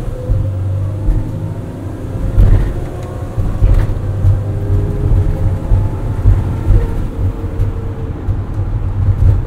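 Mercedes-Benz Sprinter 3500XD crew van with a 7-speed transmission accelerating from inside the cabin, a low engine drone swelling and easing in steady surges with faint road noise beneath.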